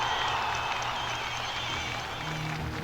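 Continuous applause from a group, a dense wash of clapping that holds steady throughout without any talking over it.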